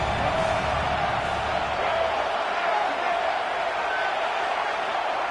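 A stadium crowd in a college football video game roars in a steady, broad wash, loud and continuous throughout, with a voice faintly mixed in.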